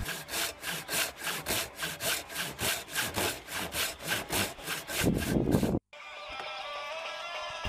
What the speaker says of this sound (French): Je découpe ensuite l'arrière du manche à châssis japonaise qui a été beaucoup trop épais